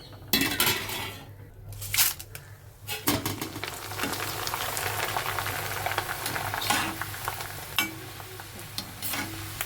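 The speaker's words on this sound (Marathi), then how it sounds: "मका पोहे जे आहेत ते आधी तळून घेणार आहोत" Maize poha flakes frying in a pan of hot oil for Diwali chivda, a steady close sizzle with scattered metal clinks and scraping of a utensil against the pan.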